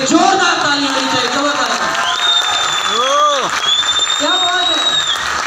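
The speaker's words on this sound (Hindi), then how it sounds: "हमारे गुरुजी के लिए जोरदार तालियां होनी चाहिए" Audience applause for a guru at an AWPL stage event, a steady clapping wash under an excited voice and warbling tones.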